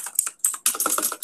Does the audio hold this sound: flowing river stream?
no